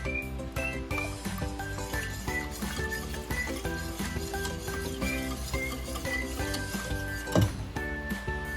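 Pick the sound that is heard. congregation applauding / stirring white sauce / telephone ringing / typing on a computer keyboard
stirring white sauce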